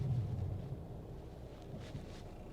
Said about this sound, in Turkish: Dizel motor sesi var arabada.